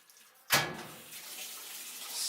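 A brand-new washing machine starts its first empty cycle: a sudden rush of water filling in, a steady hiss that keeps going, picked up fairly faintly indoors.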